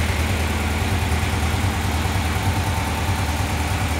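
A 1965 Volkswagen engine idles steadily at close range, a continuous low rumble with a mechanical buzz that holds an even level throughout, with no talking over it.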